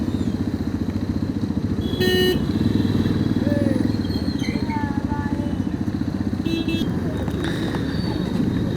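A motorcycle idles and putters close by in a heavy traffic jam near Lonavala during a monsoon ride from Mumbai to Pune, with its engine thrumming steadily, a brief horn toot, and other vehicles rumbling around it.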